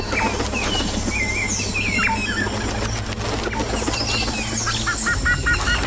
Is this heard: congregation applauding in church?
no